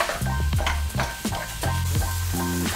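Chopped onions and minced meat sizzle steadily in a hot pan as a utensil stirs and scrapes through them in several short, close strokes.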